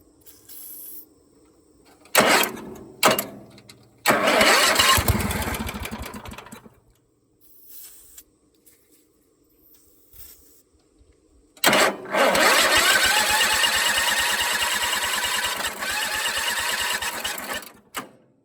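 A 1973 Bolens G10 garden tractor engine with tired electrics cranks in short bursts, catches and fires into a rough running roar, dies back to quiet, then cranks again and runs loudly for several seconds before cutting out.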